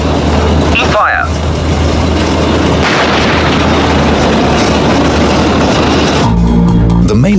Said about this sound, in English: Tank fire.